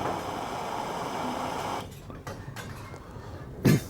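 A gas blowtorch flame for soldering 15 mm copper pipe, set low rather than full power, gives a steady close hiss that runs evenly for nearly two seconds before cutting off, leaving quiet room tone and a few soft knocks.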